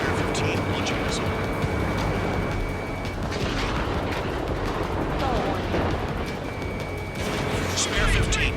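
Jet combat in Ace Combat 7: a continuous dense roar of engines and gunfire with sharp missile-launch bursts and tonal warning beeps, loud and sustained throughout, with radio chatter mixed in.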